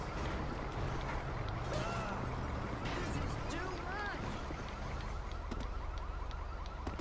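Ambulance siren in GTA Online, stuck in traffic, wailing up and down at a distance beneath talk and other game noise.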